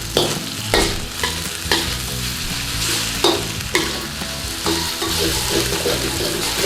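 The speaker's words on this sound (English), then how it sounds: "So give that a quick stir fry in there." Beef being stir-fried in a pan for chow mein, a steady loud sizzle with repeated scraping stirs and tosses spaced through the clip, no voices.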